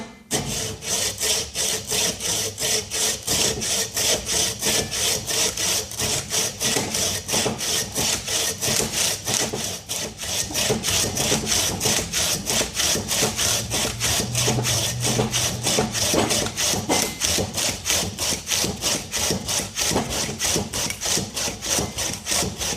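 A Silky folding hand saw rasps through well-cured wood in rapid, short back-and-forth strokes, loud, close and evenly rhythmic throughout, with no voices.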